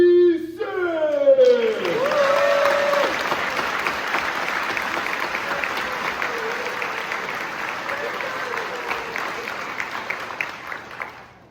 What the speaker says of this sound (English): let's give a round of applause for our soon-to-be graduating class of 2026!